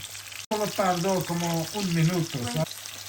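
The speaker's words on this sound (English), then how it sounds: "so our fish is frying." Fish sizzling in a frying pan for a Sylheti fish curry, a steady hiss beneath a voice talking close by.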